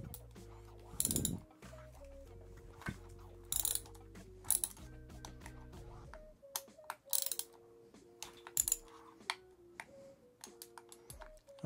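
A ratchet loosens the wheel bolts on a Dualtron Thunder 2 electric scooter, with quick clicking ratchet bursts, light metallic taps and brief handling noises, fairly close and quiet.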